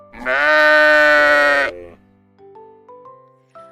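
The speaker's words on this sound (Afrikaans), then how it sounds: "Bler mamma bok." A mother goat gives one long, loud, close bleat of nearly two seconds, followed by soft melodic background notes.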